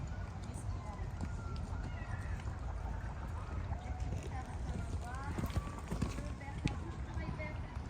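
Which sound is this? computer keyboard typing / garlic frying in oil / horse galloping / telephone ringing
horse galloping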